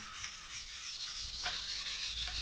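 A knife edge is pushed along a whetstone in steady rubbing strokes, a dry, gritty scraping that stays close and fairly soft with no voices over it.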